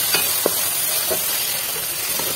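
Chopped onion frying in a small cup of oil for fried rice, a steady, fairly loud hiss and sizzle with a few soft pops and stirring knocks.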